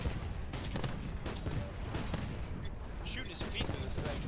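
Dense, continuous gunfire and explosive bursts from the video game Titanfall, in a Last Titan Standing match on the Training Grounds map, loud throughout with players talking over it.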